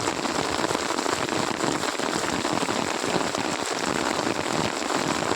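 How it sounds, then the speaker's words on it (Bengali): Heavy monsoon rain pours in a steady, dense downpour, drumming continuously on the ground and surfaces nearby with no pauses or voices. "এখানে বোঝা বুঝে কেমন জল পড়ছে, শুকা ক্ষেত্রায় জল দাঁড়াই গেল।"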